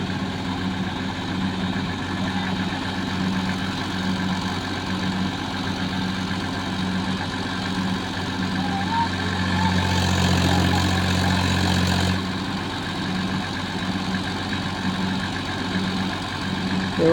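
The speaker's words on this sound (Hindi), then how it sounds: "देखो आज ट्रैक्टर चढ़ ही नहीं रहा यार" Swaraj tractor hauling a fully loaded trolley uphill, its heavy diesel engine droning steadily and swelling louder around the middle of the stretch before settling back, with no talk over it.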